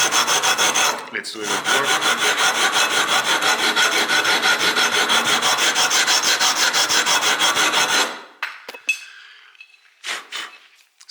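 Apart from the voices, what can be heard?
sanding a guitar neck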